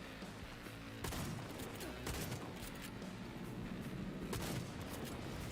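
Scattered gunfire in the video game Cyberpunk 2077, several sharp shots standing out over a dense, noisy battle background, fairly quiet overall.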